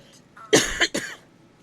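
Two or three close, loud coughs in quick succession with a short throat-clearing quality, alone with no talk, indoors during a papercraft session.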